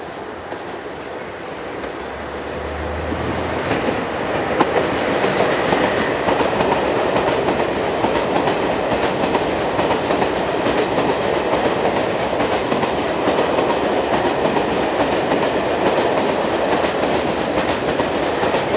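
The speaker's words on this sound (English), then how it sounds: "Our first scene shows dual voltage number 27081 heading a southbound slab train from Dunkirk" Dual voltage electric locomotive 27081 hauls a southbound slab train from Dunkirk in northern France, a loud, continuous rumble and roar of heavy wagons rolling past, with rhythmic wheel clatter building in the first seconds and holding steady throughout.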